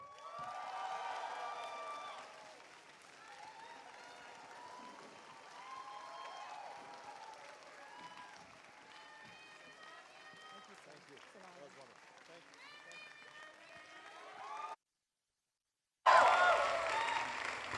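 Audience applause and scattered cheering in a town hall hall as President Barack Obama is welcomed to the stage at a Young Southeast Asian Leaders Initiative event, sustained and full, breaking briefly before a louder burst resumes.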